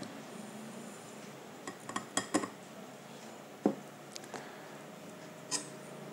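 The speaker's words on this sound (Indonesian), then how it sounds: "gulanya sudah masuk, sekarang kita aduk ya anak-anak" A spoon stirs sugar into half a glass of water, making a few faint, irregular clinks against the glass in a quiet room, with longer gaps between the taps.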